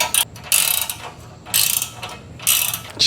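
Close, loud ratchet cranking down trailer hitch bolts on a 2021 Ford Bronco, three quick bursts of sharp clicking separated by brief pauses.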